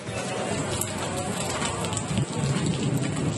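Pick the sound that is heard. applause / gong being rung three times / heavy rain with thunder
heavy rain with thunder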